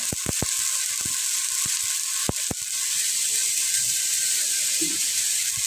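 An onion, garlic and ginger spice paste fries in a hot pan with a steady close sizzle. A few sharp utensil clicks cut through it near the start, and no one speaks.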